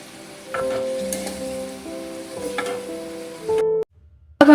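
Vegetables sizzle in a hot pan as soy sauce and chili sauce go in, a steady close frying hiss with scraping stirs and a brief clatter before it cuts out near the end.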